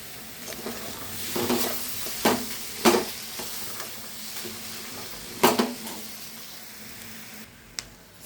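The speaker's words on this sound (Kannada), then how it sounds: "ಹುರುಳಿಕಾಳು ಮೊಳಕೆ ಕಾಳನ್ನು ಬಂದಿರೋದು ಒಗ್ಗರಣೆಗೆ ಹಾಕ್ತಾಯಿದ್ದೀನಿ." Sprouted horse gram sizzles in a hot tempering pan over a low flame. A steady, soft frying hiss runs throughout, broken by several sharp clinks of a spoon stirring against the pan.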